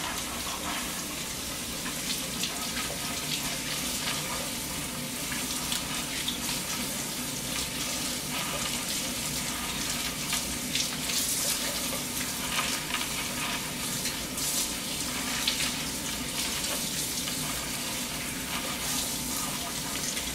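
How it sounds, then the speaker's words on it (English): Tap water runs steadily while an EEG cap is rinsed under it, a continuous broadband hiss and splash with small fluctuations, sustained for the full stretch at moderate level. "And the cap, you run it underwater."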